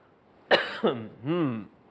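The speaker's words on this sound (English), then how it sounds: "I'm going to shut this so I don't have to cough more." Two sharp coughs in quick succession from pungent cooking spice, then a short throat-clearing rasp, close by and fairly loud in an otherwise quiet room.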